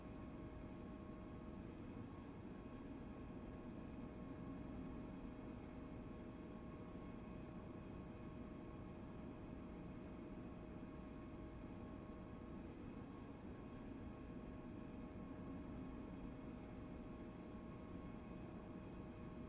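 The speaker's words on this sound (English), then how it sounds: "that's from the booster firing off to make a soft landing" Steady low roaring rumble of a spacecraft booster firing during a soft landing in the space game Dual Universe, a continuous engine drone holding at an even level throughout with no talking.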